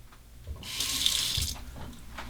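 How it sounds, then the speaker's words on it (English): Hot water runs from a tap to warm an R41 safety razor fitted with a feather blade. It starts as a trickle and swells into a strong, close gush for about a second before easing back. "Let's warm it up under the hot water."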